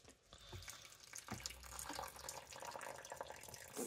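Water is poured from a container onto the dry soil of a potted cactus. A faint, steady trickle and splash runs for a few seconds with no talking.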